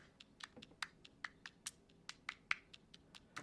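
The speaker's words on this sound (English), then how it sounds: "we have this little kind of clap percussion loop" A sampled clap percussion loop in a music production, with sharp, dry hand-clap hits in a steady syncopated rhythm, close and fairly quiet, with scratchy textural noise between the hits.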